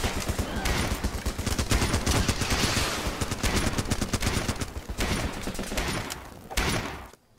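Heavy gunfire from a multiplayer war game, Running with Rifles: dense, loud bursts of rifle and machine-gun shots rattling almost nonstop, overlapping one another before cutting off near the end.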